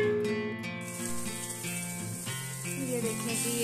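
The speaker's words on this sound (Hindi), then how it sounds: "अब हमने ये अच्छे से जो ना इसकी भुनाई कर लेनी है" Yogurt fries and sizzles steadily in a pot for degi-style beef biryani. The hiss is close and continuous, with a few light scraping stirs and no talk.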